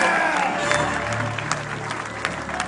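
Crowd applause and cheering for the Argentina and Finland fighters at a 5vs5 medieval combat quarter-final, a brief dense wash of clapping and shouts from the audience.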